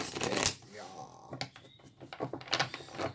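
Tarot cards shuffled by hand in bursts of riffling and sliding, close and fairly quiet, with a person talking over and between the shuffles.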